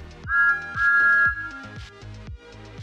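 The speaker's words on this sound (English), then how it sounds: "Also, an animated whistle." An animated steam whistle for a CGI Thomas the Tank Engine model gives two bright, sustained toots, then a series of lower descending swooping tones that fade out.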